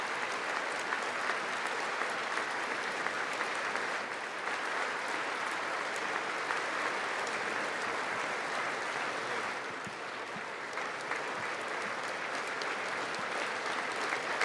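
An audience at the State of the Union gives sustained applause that holds at an even level throughout, a dense wash of clapping from a large crowd heard at some distance.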